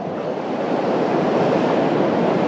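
Mountain stream water rushes continuously in the Valley of Flowers, a broad, loud, steady roar close by with no talking.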